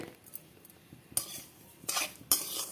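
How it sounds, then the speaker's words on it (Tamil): A utensil scrapes and clinks in a pan while semolina with cumin is dry-roasted over a medium flame: several sharp scraping strokes, quiet and close, with faint sizzling between them. "ஒரு ரெண்டு மூணு நிமிஷம் நான் வந்து மீடியம் ஃப்ளேமில் வச்சுட்டு நல்லா வறுத்துக்கிறேன்"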